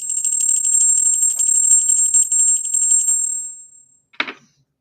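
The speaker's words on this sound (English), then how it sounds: "Pretty good sound for those two bells." A small bell rings with a bright, sustained tone for about four seconds, fading out before a brief clink near the end.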